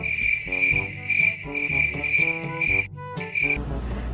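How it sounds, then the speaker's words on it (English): Crickets chirp in a steady, loud, close chorus with a continuous high trill, briefly breaking off near the end before resuming, layered over a busier tonal background. "The chirping of the crickets who is looking for their partner"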